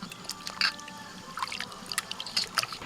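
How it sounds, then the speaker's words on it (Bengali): Pieces of green papaya are swished and rinsed in a basin of water, giving soft splashes, drips and trickles in irregular bursts, close and fairly quiet. "এইভাবে জলের মধ্যে দিয়ে দিয়ে ভালো করে ধুতে হবে"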